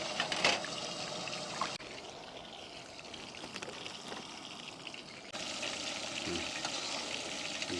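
A steady, bubbling rush of water at a hard boil in a pot fills the whole stretch, with a brief clatter early on and no talking.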